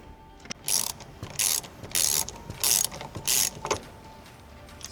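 A ratchet removes a 14mm seat belt bolt in a car during a harness bar install, giving about five close bursts of rapid clicking, each lasting a fraction of a second, with short pauses between them and no speech.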